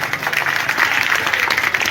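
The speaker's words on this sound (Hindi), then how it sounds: "मैं चाहता हूं कि चंपारण के धरती में एक बार जोरदार ताली" Audience applause at a Bihar contract workers' rally in Champaran, a steady, dense clatter of many hands clapping, loud and continuous throughout with no talk over it.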